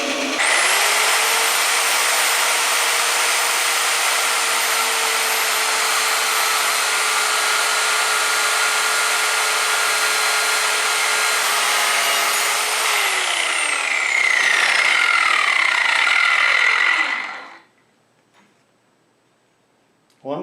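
A power tool cuts through the barrel of a Model 1777 French flintlock hunting musket, a steady loud whine that holds for about thirteen seconds, then drops in pitch as the cut finishes and stops abruptly, leaving near silence.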